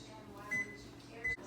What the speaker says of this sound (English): I'm just gonna warm this up in the microwave